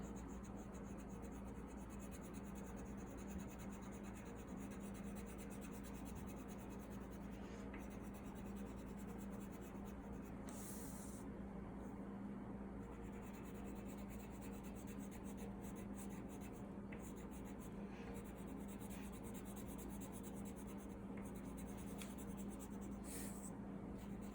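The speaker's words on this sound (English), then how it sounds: "whenever I finish coloring, I'm going to turn the paper and color the top of the next one" Coloring on paper makes a continuous soft scratchy rubbing, steady strokes repeating close up and quiet for the whole stretch, with no voices.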